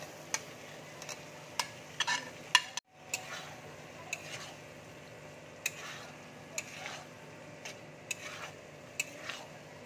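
Marinated paneer going into frying masala in a pan, with soft sizzling under repeated sharp clinks and stirring scrapes of a utensil against the pan, heard close and fairly quiet.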